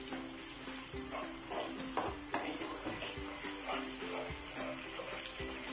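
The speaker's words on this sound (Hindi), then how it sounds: "इसको हमें लगातार ही चलाना है।" A spoon stirs a sugar mixture for papaya coconut barfi in a pan, soft repeated scraping strokes over a low sizzle, close and fairly quiet, with no talking.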